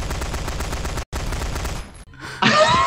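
Fast automatic gunfire aimed at zombies in Garry's Mod, a loud rattling burst that pauses briefly, resumes, then cuts off before a harsh crashing blast at the end.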